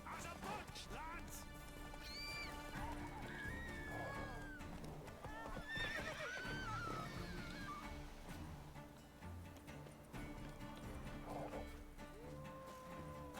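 Roach, the horse in The Witcher 3 video game, gallops with steady clip-clop hoofbeats and a whinny, all blended with game music and effects.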